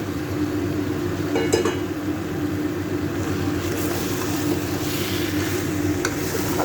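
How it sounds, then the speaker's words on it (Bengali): Fried jackfruit is stirred and sautéed in a hot pan, giving a steady low sizzling hiss that runs throughout at even volume, with a few faint scrapes of a spoon against the pan. "এখন আমি এখানে ভেজে রাখা কাঁঠালগুলো দিয়ে আর একটু কষিয়ে নেব"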